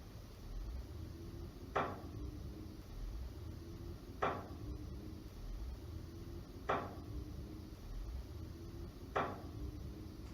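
Four sharp wooden knocks sound in a quiet house at even intervals of about two and a half seconds, each a single clear thud over a faint background hum.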